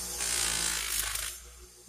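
A buffing wheel loaded with Triple E compound whirs against a rusty tool in one steady, hissing burst lasting about a second before spinning down, close and fairly loud.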